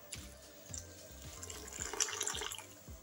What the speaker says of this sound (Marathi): 2 वाटी आपण इथे गरम पाणी टाकणार आहे।